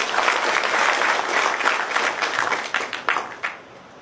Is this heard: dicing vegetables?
no